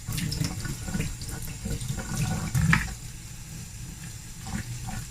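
Makeup brushes being rinsed in a small water bath, with close running and sloshing water that splashes unevenly for a few seconds and then settles to a quieter trickle.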